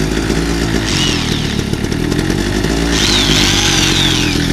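A small 800-watt portable generator engine runs low on gas, giving a loud, buzzing, slightly uneven drone that surges and wavers throughout, heard alone up close.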